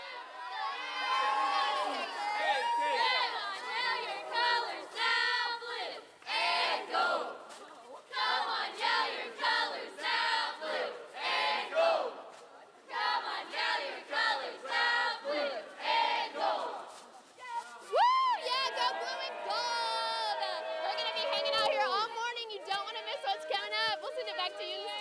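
A Christian Academy of Knoxville cheer squad shouts a school-spirit pep rally cheer, loud rhythmic chanted phrases in bursts with short pauses, ending in excited shrieks and crowd noise.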